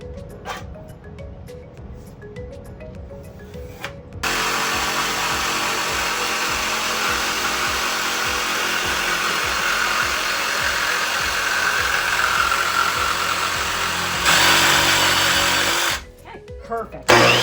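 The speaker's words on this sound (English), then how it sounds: "Then I can go ahead and make my horizontal cut" A power saw makes a horizontal cut through wood for a craft sailboat. It starts abruptly after a quiet, talky stretch and then howls loudly and steadily for about twelve seconds before cutting off.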